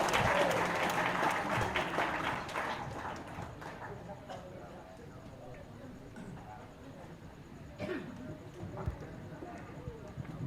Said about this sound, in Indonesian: Tepuk tangan yang meriah buat saya.